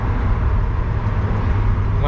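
A 1971 Ford Maverick engine gently accelerating through a dead spot where it tends to sputter, a steady, loud, low rumbling drone with no clear rise in pitch over two seconds.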